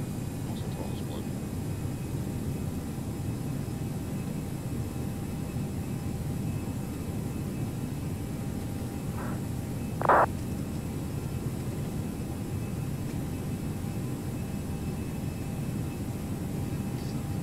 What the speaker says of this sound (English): The Airbus sounds like it's got afterburners.